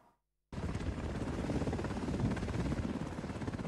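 After a brief near-silent moment, a firefighting helicopter's rotor thumps in loudly and continuously, a dense rhythmic chopping that fills the rest of the clip.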